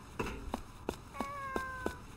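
A cat in the video game Fragile Dreams lets out a run of short, clear meows, about six evenly spaced calls, close and fairly loud, with no voice over them.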